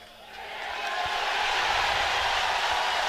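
A college baseball crowd at a Chapel Hill NCAA super regional game between North Carolina and Arizona cheers a bases-loaded walk. The roar swells within the first second and holds loud and sustained.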